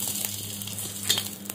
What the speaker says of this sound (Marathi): तव्यावर मिरची भाजून घेऊया.